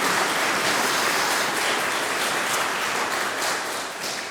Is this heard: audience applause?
yes